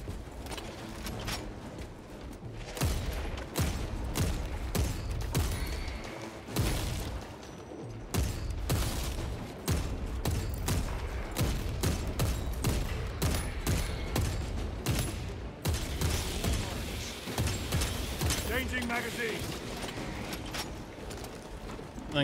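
Gunfire in the video game Warhammer 40k Space Marine 2, sniper shots among dense bursts of rapid shooting with heavy booms and mechanical clatter, loud and nearly continuous, a few short gaps between volleys.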